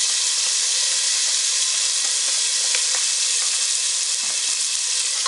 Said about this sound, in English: When our peanuts are almost fried, then we'll add our chopped tomatoes.